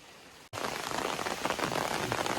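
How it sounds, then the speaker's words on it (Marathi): Steady heavy rain pours down on a surface at Kondye dam in Lanja, Ratnagiri, after a brief moment of near silence, a dense continuous hiss with no voices. "परत पाऊस चालू होते बा सारखा आणि आता तर जोरातच आलेला आहे"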